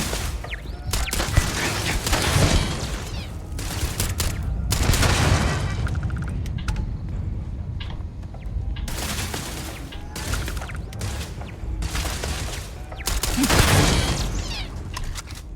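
Automated turrets firing in the space game Starfield, repeated bursts of heavy gunfire and booms with loud impacts and mechanical clanks, coming in clusters across the scene with a quieter gap in the middle.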